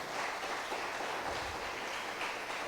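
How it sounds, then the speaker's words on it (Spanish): A church congregation applauds at a Spanish-language service, giving steady, moderately faint clapping that continues throughout. "Denle un fuerte aplauso al Señor."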